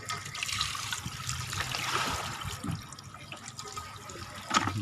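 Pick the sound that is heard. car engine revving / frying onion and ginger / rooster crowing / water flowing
water flowing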